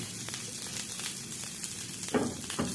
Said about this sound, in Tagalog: Ngayon, lalagyan ko ng luya. Bawang. At saka sibuyas.